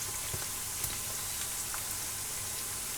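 Chimichangas, a masa-based burrito dish, frying in hot oil with a steady close crackling sizzle and scattered pops throughout, no voices.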